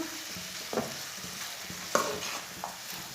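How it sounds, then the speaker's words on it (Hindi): Egg and green peas masala cooks over medium heat in a pan while a spoon stirs it, a soft sizzle broken by a few distinct scraping knocks of the spoon, close and without speech. "इसे मीडियम आंच पर चम्मच चलाते हुए पकाना, इसे जलने नहीं देना।"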